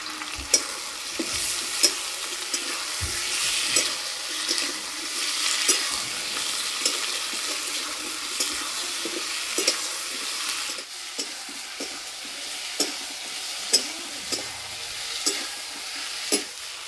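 Fried potatoes with tomato and garlic paste sizzle steadily in a pan, a continuous close hiss broken by regular scraping stir strokes and occasional clinks, with no talking.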